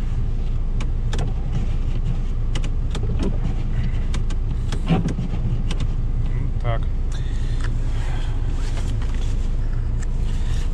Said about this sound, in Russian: Да, уже прогрелась машина.